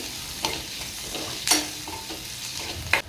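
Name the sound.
crushed garlic sautéing in a pan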